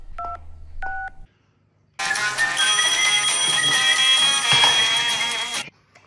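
Two short telephone keypad beeps sound near the start, followed after a pause by a long, loud, buzzing ringtone or tone that plays steadily for several seconds before cutting off.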